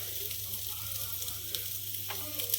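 Onions sautéing in a pan, a steady, fairly quiet sizzle with soft stirring scrapes, heard alone.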